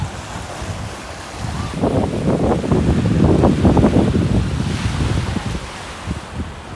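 Strong wind gusts across a beach in Cavite, with surf rolling in underneath, swelling louder in the middle and easing again toward the end.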